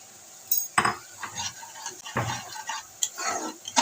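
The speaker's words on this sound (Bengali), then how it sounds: "খুব সুন্দর করে কষিয়ে নেবো যতক্ষণ না পর্যন্ত মশলার কাঁচা গন্ধ চলে যায়" Spices being sautéed and stirred in a pan for a vegetable curry with lentil fritters, giving soft sizzling with several distinct scrapes of a spoon against the pan, close and moderately loud, with no talking.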